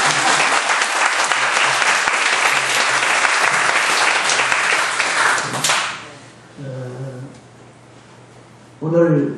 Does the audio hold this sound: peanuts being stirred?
no